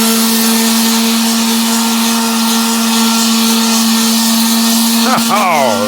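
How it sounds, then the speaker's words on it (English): Electric sander fitted with a new 80-grit disc, grinding on a cast iron cylinder under repair: a loud, steady motor whine with a strong hum, then a sharp pitch sweep as the disc bites near the end. "I think I can just get my sander out. I got an 80 grit disc on here, brand new one."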